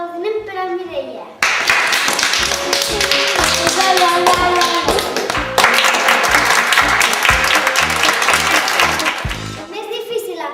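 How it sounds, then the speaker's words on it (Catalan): Audience claps after a children's coin magic trick, the tapping starting abruptly and staying dense and steady with music-like tones over it, then fading near the end. "Un fort aplaudiment per al Mireia."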